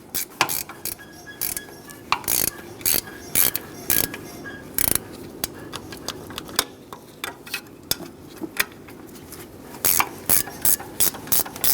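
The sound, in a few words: 14mm wrench loosening nut on AC compressor bolt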